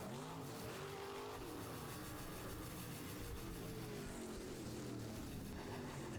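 Stock cars racing past at a heat race finish on a dirt oval, a continuous loud roar of engines with distant crowd and track ambience, engines whining and shifting pitch as cars pass.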